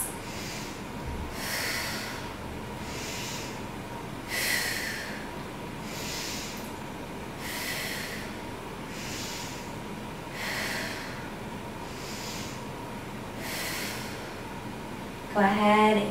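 Slow, deep breathing while holding a yoga stretch, steady airy inhales and exhales repeating about every one to two seconds over a constant background hiss, close and soft.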